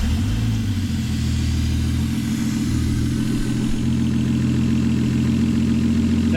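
A turbocharged Toyota Supra 7M engine swapped into a Nissan S13 runs loud and close, a steady deep idle rising into brief revs, with a slightly worn turbo.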